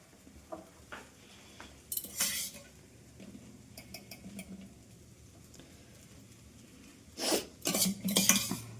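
A utensil scrapes and clatters against a pan while egg fried rice is stirred, with irregular bursts of metallic scraping, the loudest near the end, over quiet background.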